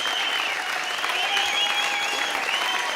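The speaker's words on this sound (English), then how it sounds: "The crowd goes wild." Concert crowd at ABC TV Studios in Melbourne, 1998, applauding and cheering in a dense, steady roar of clapping with shrill whistles and shouts on top, loud and close throughout.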